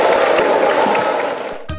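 A crowd at an anime convention applauds a guest steadily, dense clapping that fades slightly toward the end before a brief different sound cuts in.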